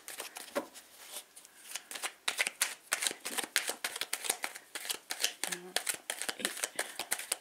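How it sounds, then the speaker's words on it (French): Tarot cards being shuffled and cut, giving a dense run of quick riffling flicks and slaps, close and fairly loud, continuing steadily throughout. "Il y a des cartes qui se retournent."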